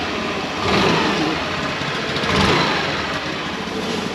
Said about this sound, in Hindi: तो जब हम ये लीवर खींचेंगे तब एक्सीलेटर खींच जाएंगे।